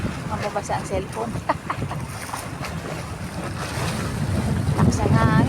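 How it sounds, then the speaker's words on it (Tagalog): Large sea waves surging at the shore amid gusty wind buffeting the microphone, a rushing roar that swells louder toward the end while people talk over it. "Malaki ang alon."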